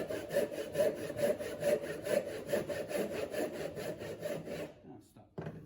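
A hand saw cuts down a wooden tenon in steady back-and-forth strokes, about a dozen even rasping passes close by, then stops with a couple of light knocks at the end.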